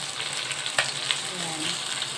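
Vegetables sauté in a hot pan with a steady, close sizzle and a few sharp clinks and scrapes from stirring, no voices.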